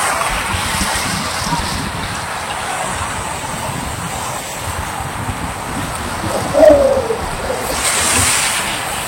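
Sea waves roll in at Yarada Beach near Visakhapatnam, a quiet village shore, as a steady loud wash of surf with a brief swell near the end.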